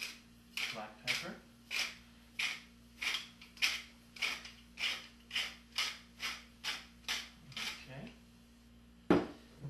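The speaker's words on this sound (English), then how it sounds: "Some freshly grated black pepper." Fresh black pepper ground by hand over a quinoa salad, a quiet, close run of about a dozen rhythmic gritty crunches at a steady pace, ending with a sharper knock.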